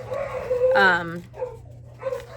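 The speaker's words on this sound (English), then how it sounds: "sorry if you guys can hear my dogs" Pet dogs bark and yelp indoors, excited about the mailman, a few short barks close by, partly mixed with a person talking.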